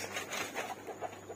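An Aztec hen, more than a year old, clucking softly in a few short, faint pulses against a quiet background.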